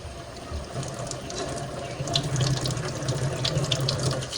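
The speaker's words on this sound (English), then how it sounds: "So you'll want to run water through here and make sure that none of these little areas are clogged." Water runs from a tap through the spray arm of a GE front-control dishwasher, a steady close splashing flow that grows slightly louder partway through, no voices.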